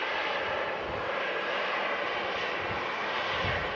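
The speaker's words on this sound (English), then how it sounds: "Another Lufthansa on the way out, an Airbus A319, heading back home to Munich." Lufthansa CityLine Airbus A319 departing Manchester Airport for Munich, a steady broadband engine roar that holds loud and even throughout, with no voices over it.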